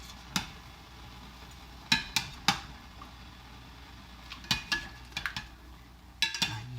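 Tangyuan dumplings stirred in a pot of boiling water over high heat: sharp utensil clinks against the pot arrive in scattered bursts, some in quick clusters, over a quiet steady background hum.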